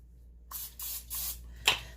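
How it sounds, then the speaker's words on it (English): Three short hisses from an olive oil spray can, then a sharper final spritz, quiet and close with no talking. "I take my olive oil spray"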